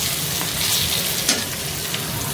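Pumpkin pieces sizzle in a hot pan, a steady close frying hiss with a few small pops and stirring scrapes, no voices.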